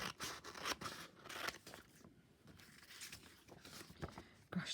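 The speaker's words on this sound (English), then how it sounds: "Let me just cut that out." Scissors cutting through scrap paper for a handmade trifold card, giving a run of close, crisp snips and rustles in uneven bursts, with no talking.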